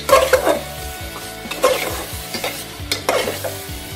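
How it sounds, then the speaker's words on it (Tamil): Brinjal and broad beans being stirred and sautéed in masala in a pan, with steady frying sizzle and repeated scraping strokes of a spoon against the pan, close and fairly loud. "இப்போ நான் இந்த மொச்சையும் கத்திரிக்காவும் அதில் போட்டு அந்த மசாலாவோட ரெண்டு வதக்கு"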